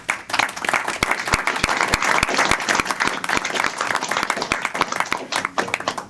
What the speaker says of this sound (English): Little applause here.